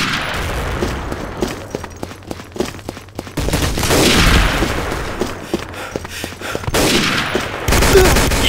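Rapid gunfire in Day of Defeat Source, a World War II shooter, with bursts of automatic fire and single heavy shots cracking throughout, loud and dense, broken by brief lulls.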